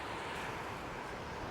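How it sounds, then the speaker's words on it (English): Waves wash over a steep shingle beach at Torcross in South Devon, a continuous loud broadband rush mixed with wind noise on the microphone, with no voices. "Nice sort of steep shingly beach, water looks really clear"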